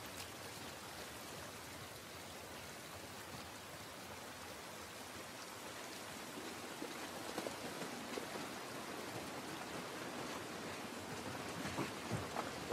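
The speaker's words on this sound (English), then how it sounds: "This rain ain't gonna do us any good." Steady rain falls in an outdoor scene from The Last of Us Part 1, a constant soft hiss of drops with slightly louder spatters toward the end, with no voices.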